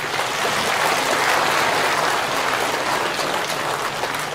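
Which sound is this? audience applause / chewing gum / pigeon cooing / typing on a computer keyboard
audience applause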